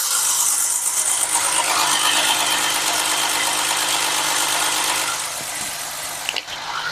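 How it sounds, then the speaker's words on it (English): A misfiring V6 engine of a 2008 Ford Fusion runs with a busy, rattly idle, then settles to a quieter, lower idle partway through. "Here it's idling down."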